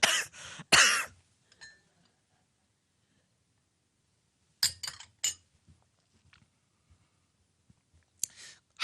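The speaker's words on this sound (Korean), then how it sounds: "너무들 기침 나올라 그런다." A few short coughs and throat-clearing sounds come in separate bursts, with quiet gaps and faint clicks between them.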